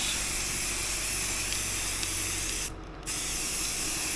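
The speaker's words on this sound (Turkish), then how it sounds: "Sonrasında beyaz sprey boya aldım. Şimdi boyayacağım." White spray paint hissing steadily from an aerosol can in one long continuous burst, close and fairly loud, with a short pause near the end before the spray resumes, during preparations for a wedding.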